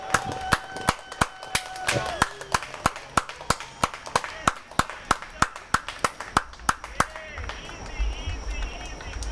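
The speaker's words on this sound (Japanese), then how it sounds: "両チームの選手にもう一度温かい拍手を送" Sparse, separate handclaps ring out in an arena after a Mie Firebirds basketball game won 11 to 7. The claps come as sharp, regular cracks, with a public-address voice and crowd murmur underneath and a tone near the end.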